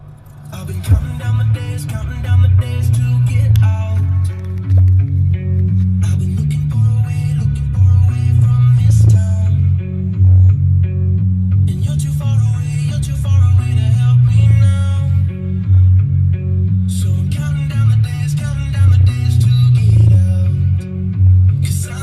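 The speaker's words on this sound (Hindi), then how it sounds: "मैं आप लोग को सुनाऊंगा by playing a small music" Music plays through an under-seat subwoofer inside a Tata Nexon XZ, with heavy, continuous low bass that booms loudly in the cabin under the song's vocals and instruments.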